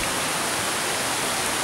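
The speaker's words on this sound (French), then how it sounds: "Une fois arrivé à la cascade" A woodland waterfall rushes in a dense, steady roar with no breaks, close and fairly loud.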